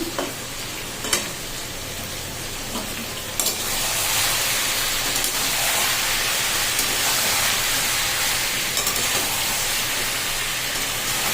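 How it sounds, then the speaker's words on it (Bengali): Loud, continuous frying sizzle as chicken is stirred in a pan, with a few scraping knocks early before the hiss swells and holds steady. "আর এইদিকে আমার মাংসটা নাড়ছি"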